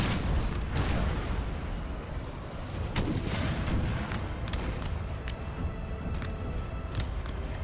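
Cannon and musket fire from a Napoleonic battle in the video game Napoleon Total War: continuous booming artillery with sharp crackling gunshots layered densely over a constant low rumble, loud and unbroken throughout.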